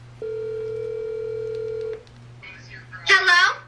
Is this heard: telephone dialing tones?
yes